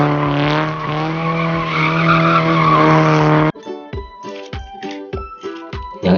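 A toy race car plays its electronic sound effects: a sustained revving, screeching engine tone, then a rapid run of sharp tire-skid chirps, loud and close.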